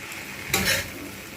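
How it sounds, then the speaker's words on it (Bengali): Bread pieces for bread pulao are stirred in a pan, giving a brief burst of sizzling and scraping near the middle of a quiet frying hiss. "আমি এবারে ভালোভাবে এগুলো নেড়ে নেব"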